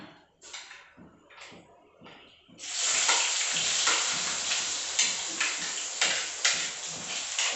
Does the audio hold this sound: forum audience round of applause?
no